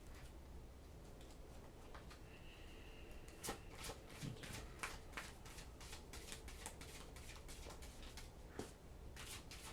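Oracle cards being shuffled and drawn by hand give off crisp, repeated riffling flicks and soft slaps at a steady, close pace, with no talking.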